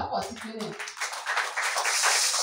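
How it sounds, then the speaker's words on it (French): A church congregation breaks into applause during a worship service, a burst of many hands clapping that builds and fills the room after a moment of voices, continuing loud to the end. "Tu vas applaudir pour lui"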